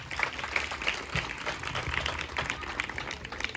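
Audience applause at a public Ganesh festival gathering, a steady moderate wash of many hands clapping that holds evenly throughout with no voices on top.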